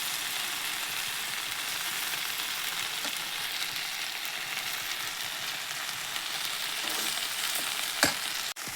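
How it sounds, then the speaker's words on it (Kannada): Okra curry with spices frying in oil, a dense, continuous hissing sizzle close up, steady throughout, with a sharp utensil knock near the end and no voices. "ಇದೆಲ್ಲ ಚೆನ್ನಾಗಿ ಎಣ್ಣೆಯಲ್ಲಿ ಹುರ್ಕೋಬೇಕು ನೋಡ್ರಿ"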